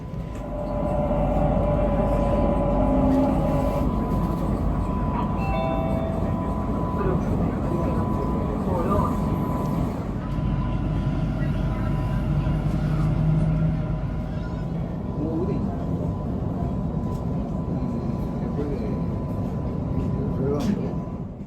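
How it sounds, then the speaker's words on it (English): A Buenos Aires suburban train rolls along its tracks at modest speed, a steady rumbling drone with faint rattles and squeals, heard continuously from on board. "Once again, this train does not travel at an impressively fast speed at all."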